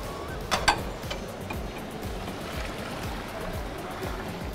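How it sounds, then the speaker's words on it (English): An MKN combi oven automatically pours a liter of water onto risotto at a live cooking demonstration. A faint, steady trickle of flowing water runs under rhythmic mechanical ticking, with a few sharper clicks near the start. "And now we add automatically 1 liter of water"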